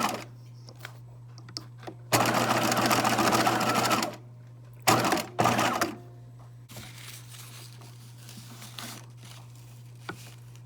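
A sewing machine stitches ribbon onto elastic, running back and forth in several bursts of steady whirring separated by pauses, close and clear over a low constant hum.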